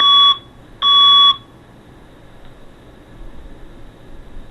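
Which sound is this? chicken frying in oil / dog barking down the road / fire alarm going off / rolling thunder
fire alarm going off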